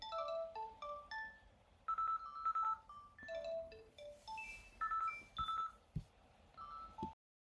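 A phone plays a melodic ringtone of bright, rapid electronic tones in short repeating phrases, loud and close, then cuts off abruptly.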